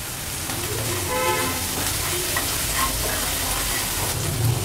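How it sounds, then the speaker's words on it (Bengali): Chopped onions fry in a pan, giving a steady, fairly loud sizzle and hiss with some stirring scrapes, and no speech. "একটু পেঁয়াজ কুচিটাকে ট্রান্সপারেন্ট হওয়া অবধি ভাজবো।"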